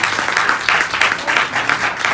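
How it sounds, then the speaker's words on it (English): An audience claps in a room, steady dense applause from a group that continues evenly without pause. "Y'all can clap for that."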